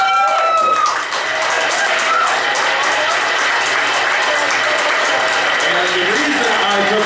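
Audience applause at a live comedy show, loud sustained clapping for several seconds with faint voices and tonal sounds mixed underneath.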